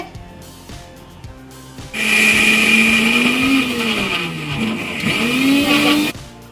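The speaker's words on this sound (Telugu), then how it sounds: "వాటర్ అంతా కూడా తీసేసుకుని ఓన్లీ ఇలా వేసేసి మిక్సీ పట్టేసుకోవాలండి" A mixer grinder grinds soaked, drained urad dal. After quiet handling noises, the motor starts with a loud, steady whine that wavers in pitch for about four seconds, then cuts off.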